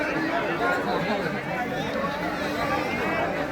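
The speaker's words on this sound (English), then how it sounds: "And you can see the crowd everywhere." Dense crowd chatter fills a packed night Eid bazaar at Charminar, Hyderabad, a continuous close hubbub of many overlapping voices with footsteps and general street bustle.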